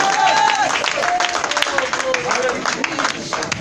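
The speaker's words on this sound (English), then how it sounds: "Somebody clap your hands and say Jesus." Church congregation clapping hands during a sermon, a dense patter of applause from a crowd under a preacher's loud sung and spoken voice.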